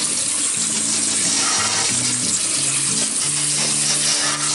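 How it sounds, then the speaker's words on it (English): Boiled crawfish are drained through a strainer, water pouring and splashing in a loud, continuous rush with clattering shells throughout. "we're going to drain them off. I've got a strainer here."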